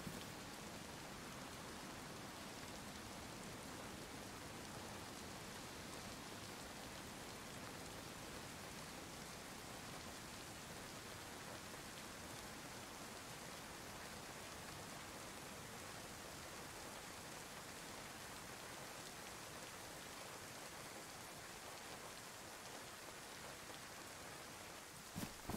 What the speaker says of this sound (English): Look, here comes the rain.